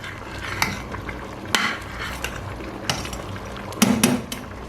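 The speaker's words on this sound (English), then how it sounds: "It's already boiling, so I'm just going to stir this up." A metal spoon scrapes and clinks against a pot of boiling Afang soup in a few irregular strokes, with a low bubbling background.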